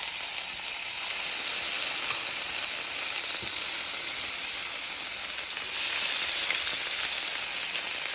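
Sweet and spicy Asian ribs brown in a hot pan, sending up a loud, dense, continuous sizzle that stays steady throughout and swells slightly in places, close up with no voices.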